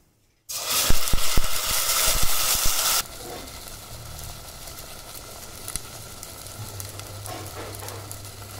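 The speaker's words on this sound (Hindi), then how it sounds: "पैन में हमने तेल डाल दिया है 2 टेबलस्पून, उसमें 1 चम्मच जीरा डाला है, और अब हम डालेंगे पिसा हुआ पेस्ट।" Two tablespoons of oil with a spoonful of cumin seed take ground spice paste in a pan. A loud burst of sizzling hits as it goes in, then settles into a softer, steady fry for the rest.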